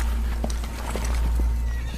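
Hooves clatter in an irregular, quick pattern over a loud low rumble as horses move off at speed in a film scene; no talking.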